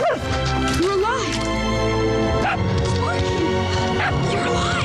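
Barking and yipping from the dog in Tim Burton's stop-motion animated film Frankenweenie, several sharp barks and whimpers over a busy score and voices.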